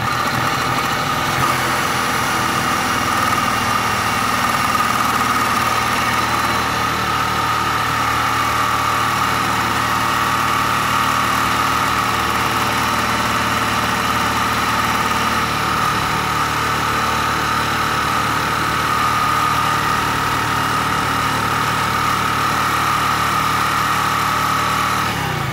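A Honda PA50 moped engine with a carburetor problem runs steadily and close by, a continuous light high-pitched idle with faint vibration holding for the whole stretch, alone with no talk.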